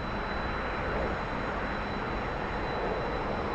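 Jet engine of a T-45 trainer in the DCS flight simulator, a steady broadband roar with a thin high whine held constant throughout, no speech over it.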